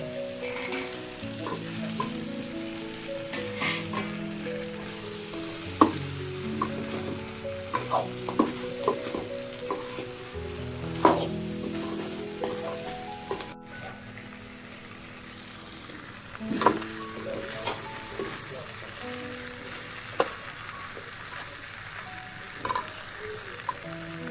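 Crabs and lentil dumplings fry in a pan for a Bengali crab curry, giving a continuous soft sizzle broken by repeated scrapes and knocks of a spoon stirring against the pan.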